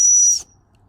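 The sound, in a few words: emergency whistle on a survival pocket knife blown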